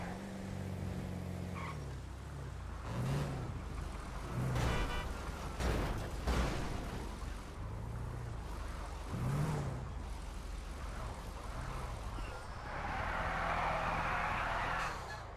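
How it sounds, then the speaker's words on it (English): A big rig in the RedlineRP video game roars with heavy engine revving and tire noise during burnouts, a loud and steady drone that rises and falls for the whole stretch, with a brief hiss near the end. "Burnouts in the rig"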